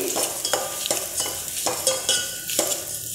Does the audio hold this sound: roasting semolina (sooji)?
yes